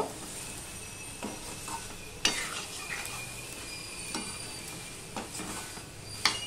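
Papaya, potato and soybean curry is stirred and fried in a pan, with a soft, continuous sizzle broken by several sharp scrapes and clinks of a utensil against the pan.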